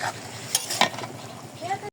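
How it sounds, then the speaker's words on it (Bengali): Beef being stirred and sautéed in a spiced masala, a soft scraping and low sizzle with a few louder utensil clinks, cut off abruptly by a brief silence near the end. "এখন ভালো করে নাড়াচাড়া দিয়ে গোষ্ঠটা কষাই নিব"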